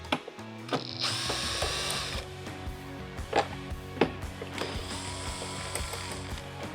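A power tool ratchets out T27 Torx screws from the outer front fairing of a 2023.5-onward Harley-Davidson Road Glide, giving close, repeated mechanical whirring and clicking bursts with brief pauses between them.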